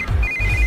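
A phone ringtone chirps steadily in a high repeating tone, close and clear, with low background rumble beneath it.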